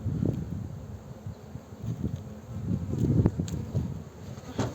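Honeybees buzzing around an open hive at an apiary in Muğla in April, a low, wavering drone that swells and fades with passing bees, moderately close and steady without speech.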